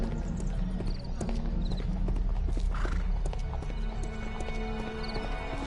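Horse hooves clip-clop on a city street in a video game, steady and fairly close, with occasional whinnies and busy background street noise mixed in.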